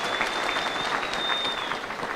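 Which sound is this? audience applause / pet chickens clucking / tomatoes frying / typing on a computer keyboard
audience applause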